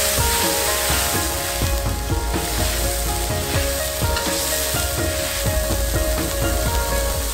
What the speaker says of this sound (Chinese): 下锅焖煎。